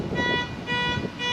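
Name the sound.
car alarm going off at a campground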